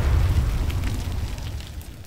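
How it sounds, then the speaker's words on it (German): A tank fires in the Arma 3 video game, giving a loud, deep explosive boom with a rumbling low roar that slowly fades. "Ich wurde gerade erschossen von einem Panzer."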